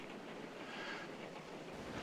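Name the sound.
train running during a storm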